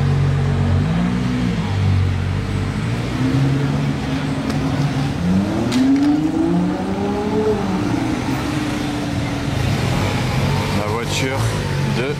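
A Ferrari Daytona SP3 supercar revs and accelerates past in Monaco, its pitch sweeping up and down, with people talking excitedly over the noise.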